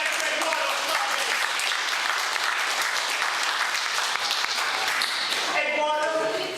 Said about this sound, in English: can we have a warm round of applause for our great guest lecturer, Eduardo Chavez.